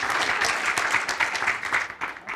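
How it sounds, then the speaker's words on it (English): Audience applause for a team at a hackathon finals event, a dense, continuous patter of clapping that tapers slightly toward the end. "let's give a big round of applause to the team."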